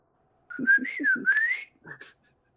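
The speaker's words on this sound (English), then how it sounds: "Again, it is just whistling." Someone whistles a short wavering melodic phrase at close range, with soft voiced murmurs beneath it and a brief tail at the end, then silence; the whistle is clear and fairly loud.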